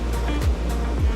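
Surf washing onto the shore at Waituala Beach in Kuripan village, Pesisir Utara, near Krui, with a steady roar and two heavier low swells breaking close by, no voices.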